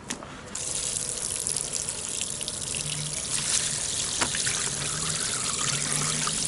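Dirty black water left over from cleaning the interior of a Chevrolet Aveo is poured out in a continuous splashing gush that runs close and fairly loud for several seconds after a brief quieter start.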